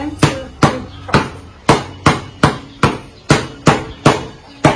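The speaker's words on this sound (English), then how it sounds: "you're going to be doing that power dribble as hard as you can" A basketball is power dribbled hard on an indoor floor, giving nine sharp, evenly spaced bounces, close and loud, alone with no talking.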